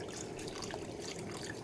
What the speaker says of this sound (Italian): Aggiungo l'acqua fin da adesso, quanto basta sia per cucinare le patate sia per cucinare la carne.